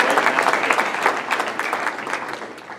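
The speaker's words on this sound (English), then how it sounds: "I think everybody should give yourselves a round of applause." A Rotary club audience at a meeting in Columbia applauds, with dense, steady clapping from a roomful of people. The applause fades slightly toward the end and no one speaks over it.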